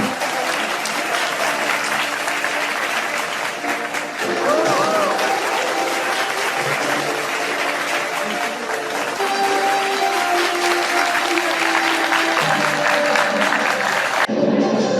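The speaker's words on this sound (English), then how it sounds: "A big round of applause all of you." An audience at an alumni meet gives sustained, loud applause and cheering, with a voice over a loudspeaker talking above the clapping and music playing underneath.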